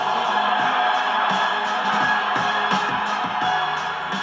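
Crowd cheering and roaring continuously at the women's double sculls rowing final, a dense, loud wall of voices with no gaps.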